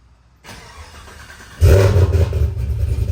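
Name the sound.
Chevrolet Suburban starting and backing out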